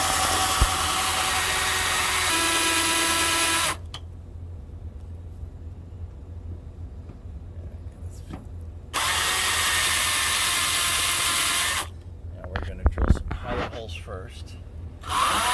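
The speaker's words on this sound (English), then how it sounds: "We're going to drill the pilot holes through the metal." A power drill bores pilot holes through the metal wall of a steel building while a Tesla Gen 3 Wall Connector is mounted, in two loud, steady bursts separated by a quieter pause with faint handling noises.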